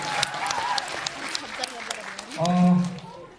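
A brief patter of clapping from a small mini-concert audience, with a voice and a sustained sung or spoken tone coming in near the end as an unaccompanied song begins.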